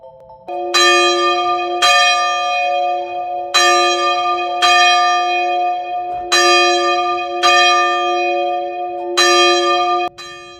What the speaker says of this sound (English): He rang the church bells and ran away shouting